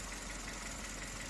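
A Chevrolet Spark engine idles with a steady low rumble and slight vibration, faint and continuous with no voices over it.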